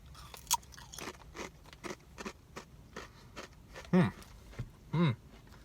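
Crunchy Doritos Blaze tortilla chips being bitten and chewed close up, a string of brittle crunches with two louder bites near the end, no talking.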